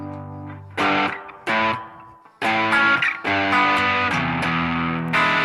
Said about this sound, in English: So here's the T-scream.